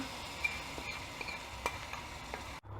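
Hot spice tempering poured into a pot of dalma lentil curry: a faint, steady frying hiss with a few light clicks and scrapes, quiet and close, cutting off abruptly at the end.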